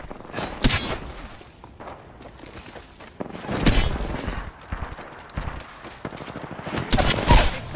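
Gunfire in the video game Apex Legends: sharp volleys and single shots burst out irregularly, with loud clusters near the start, middle and end, and quieter crackling shots in between.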